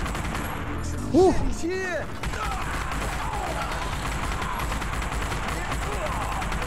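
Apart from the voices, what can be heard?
gunfire in The Punisher video game, original Xbox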